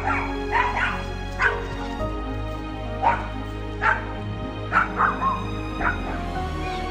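A chihuahua yaps repeatedly in sharp, high barks with short whimpers between, close and loud over a low steady hum.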